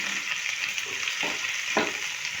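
Onions and carrots fry in a pan with a continuous close hiss and sizzle, broken by a couple of brief stirring scrapes, and no voices.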